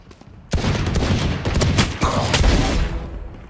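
Rapid video game gunfire: a sudden loud volley of shots beginning after a short quiet moment and continuing densely for about three seconds, close and heavy.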